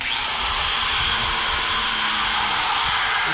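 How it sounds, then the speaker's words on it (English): An angle grinder switched on and left running continuously, giving a steady, loud high-pitched motor whine that holds unbroken throughout with no talking. "So when you turn this grinder on and you push this button, let me show you what happens."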